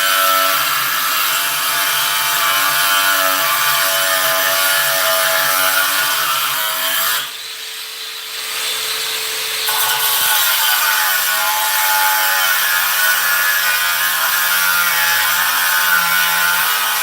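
A miter saw cuts wooden pieces to equal length beside a Dewalt planer, making a loud, continuous close-range whine that dips briefly mid-cut before resuming, with no talk.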